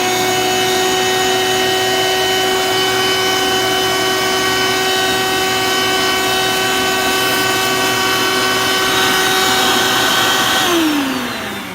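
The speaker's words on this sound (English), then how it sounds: "I actually took this vacuum tube, turned it on, and then shoved it all the way down like this." A loud, steady vacuum whine with strong tonal hum, running continuously inside the exhaust tube of a coffee roaster, resonating, then shifting pitch at the very end.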